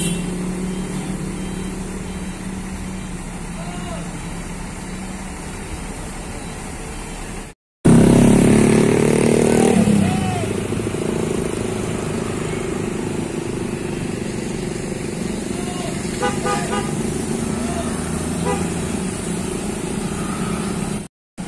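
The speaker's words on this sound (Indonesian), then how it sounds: "Melintas kembali bus City Miles SR2 HD Prime." City Miles SR2 HD Prime tour bus passing at Galendo 2 in Ciamis, its engine rumbling steadily for about twenty seconds with a brief loud surge after a short cut; a faint horn may sound, but no clear honk stands out.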